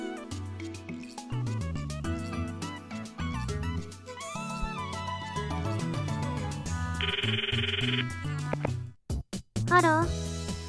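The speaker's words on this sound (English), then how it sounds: "Now let's call Kurisu." A melodic phone ringtone from the Steins;Gate video game plays steadily for about ten seconds as a layered musical tone, then ends in a few choppy bursts. No one speaks.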